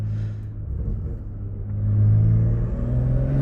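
A BMW M2 F87 accelerating on a twisty road, its exhaust a deep steady drone that swells louder and climbs in pitch partway through, heard from inside the car.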